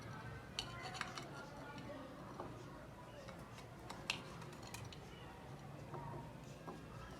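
Kinnow mandarins are cut with a knife in a kitchen, producing scattered clicks and taps of the blade against a board and dishes over a low background hum.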